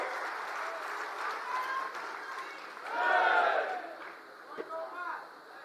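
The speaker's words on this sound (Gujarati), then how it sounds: "જોરદાર તાળીઓથી ઈસુદાનભાઈને આપણે વધાવીએ" A rally crowd welcomes Isudan Gadhvi with clapping and cheering. The applause is distant and muffled and swells in the middle, while a voice carries on over it.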